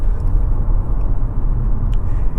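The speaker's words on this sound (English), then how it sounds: "So once it goes, just like takes off, downshifts, and goes." A 2024 Chevy Trax 2RS compact SUV with a 6-speed automatic accelerating, heard from the cabin as a loud, steady low rumble of engine and road noise with no talking.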